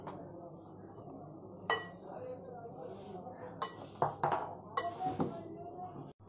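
Cauliflower being mixed with batter in a bowl, a series of clinks and scrapes of a spoon against the bowl, irregular and close, growing busier in the second half.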